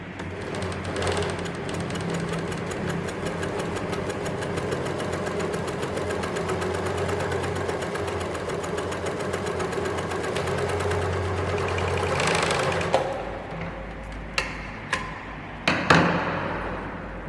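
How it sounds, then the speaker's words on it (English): An overlocker serger runs steadily and loud while stitching the curved edges of a pants pocket facing, a continuous fast whirring that stops near the end, followed by a few sharp clicks and knocks close by. "we've overlocked the curved edges of the pocket facing"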